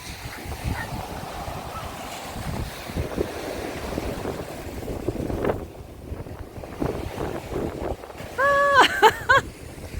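Sea waves on the Odesa shore in mid-October, rolling and washing in a continuous wind-blown rush, with gusts buffeting the microphone and brief voices near the end.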